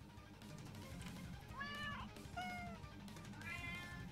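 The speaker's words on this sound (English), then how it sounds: "I really like those generic cat noises." Generic video game cat meows sound in a short series of three rising and falling calls, fairly clear over a steady low background murmur.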